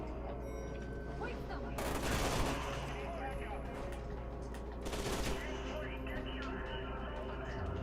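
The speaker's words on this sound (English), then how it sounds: "Man, the shooting's pretty solid." Gunfire in the first-person shooter F.E.A.R., a steady din of game combat with two loud bursts of shots standing out, heard under someone talking.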